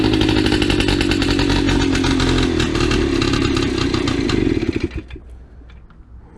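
Cheap moped engine being kick-started and puttering, smoking from the exhaust: a loud, buzzing two-stroke rattle that runs steadily, then stutters and dies away into quiet near the end.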